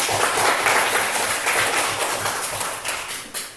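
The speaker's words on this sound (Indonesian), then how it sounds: "Tepuk tangan dulu." A classroom of students claps together after a group finishes presenting a math problem, a dense, sustained burst of many overlapping hand claps that stays fairly loud and steady for several seconds before tapering slightly, with no talking.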